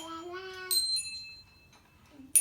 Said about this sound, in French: Ding dong, écoute la cloche, super que tu sois là.